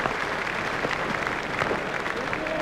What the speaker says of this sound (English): The crowd are giving him a great round of applause as they appreciate the importance of this knock.